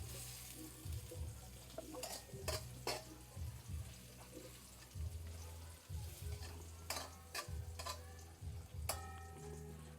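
Garlic sizzles in a pan while cooking sinigang na baka, a steady fry with clinking utensil taps and stirring scrapes scattered throughout, close and fairly quiet.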